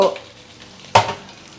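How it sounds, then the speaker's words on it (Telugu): Okra sizzles and fries in a pan, with a sharp clatter of stirring near the middle before the steady frying hiss continues. "కొంచెం ఇట్లా వేయించితే ఏమవుతుందంటే జిగురు పోతుంది కొంచెం సేపు వేయించుదాము"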